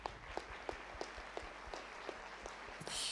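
Audience applauding in a courtroom-style debate hall after an usher is thanked, a soft steady clapping bed with a few sharper claps, swelling louder at the very end.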